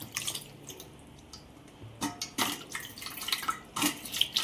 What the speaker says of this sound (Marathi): चला तर मग आता मी इथे कैरी धुवून घेत आहे.